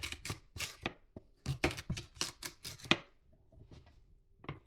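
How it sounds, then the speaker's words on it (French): A kitchen knife chops carrots finely on a cutting board, with quick, crisp taps in short bursts, then a pause and a few scattered cuts at close range. "on va éplucher 2 carottes qu'on va couper finement"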